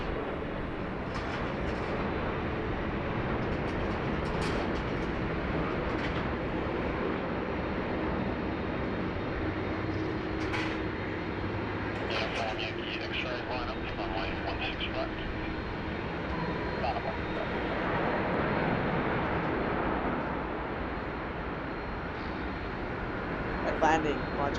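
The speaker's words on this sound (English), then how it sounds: "here comes the China Southern now. Short final approach. Airbus A380 from Guangzhou, China" A China Southern Airbus A380 from Guangzhou on short final approach landing at Sydney Airport, its engines a broad steady distant roar lasting throughout, with a voice talking over it.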